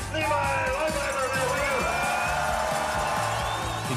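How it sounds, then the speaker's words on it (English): A crowd cheers and whoops for three-time Tour of California winner Levi Leipheimer, a steady, dense roar of voices with rising shouts throughout. "Big round of applause for the three-peat man, Levi Leipheimer"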